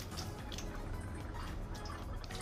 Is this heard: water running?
yes